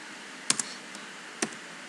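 A few crisp, close keystrokes click on a computer keyboard while %temp is typed, two quick taps, a long pause, then another click over a faint background hiss.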